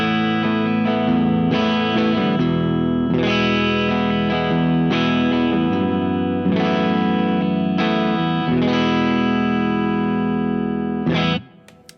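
PureSalem Cardinal non-reverse electric guitar on the middle pickup, heavily distorted, strums a run of sustained chords with sharp attacks, loud and steady throughout before stopping abruptly near the end.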